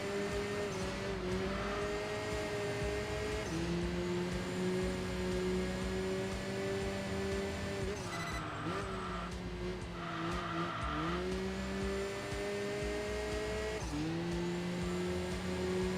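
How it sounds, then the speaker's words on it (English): In the Enthusia Professional Racing video game, an upgraded turbocharged race car engine drones steadily and shifts pitch through gear changes, with a loud turbo whine and tire squeal, continuous and close without talk. "The turbo is almost louder than the engine now that with that we got some upgrades."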